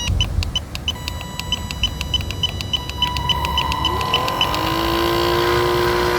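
An RC car motor spins up to generate power, with a rising electric whine that climbs and then holds a steady high tone, plus repeated beeps early on, close and loud with no talk.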